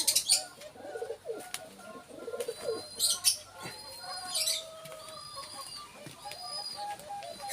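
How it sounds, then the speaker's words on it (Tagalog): Alimukon dove cooing from a cage trap outdoors, soft repeated low coos mixed with bright chirps from other birds nearby, moderately close and steady over the whole stretch. "ito yung ibong alimukon, no?"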